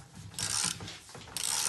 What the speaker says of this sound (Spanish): y ahora con nuestra llavecita y nuestra carraca